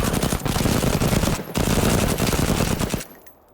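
Video game gunfire, a loud, sustained burst of rapid automatic shots that breaks off briefly, resumes, then stops abruptly near the end.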